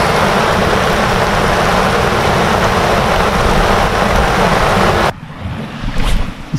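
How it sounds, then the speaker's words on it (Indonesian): Heavy rain roars in a dense, loud, continuous wash, then suddenly drops away to a much quieter background. "Hujan"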